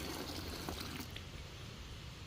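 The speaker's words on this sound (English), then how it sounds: "take our quart of water, dump that all in there" A quart of water dumped into a bag for mushroom-growing substrate, a steady close splashing pour that runs for a couple of seconds with no voices.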